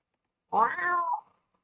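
A single clear, close meow from the Palico cat companion in Monster Hunter Wilds, a rising, drawn-out cat call of about three quarters of a second, heard alone against silence.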